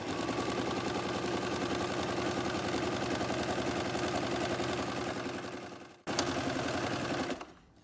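A sewing machine stitching fabric, opening with a backstitch, runs in a fast steady mechanical chatter for about six seconds, stops briefly, then resumes for a short second burst, close and clear.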